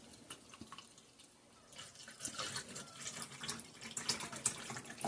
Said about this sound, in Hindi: तो अब हम इसको गिलास में ट्रांसफ़र करते हैं।